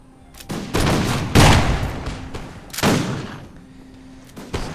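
Musket volleys crack out in Empire: Total War, several ragged bursts of massed gunfire in a snowy battle, each rolling off into a short fading tail, with quieter shots scattered between.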